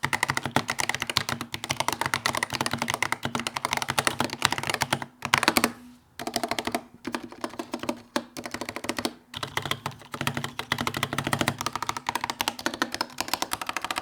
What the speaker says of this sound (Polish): jeżeli chodzi o brzmienie tej klawiatury, to nie jest to jakiś fantastyczny dźwięk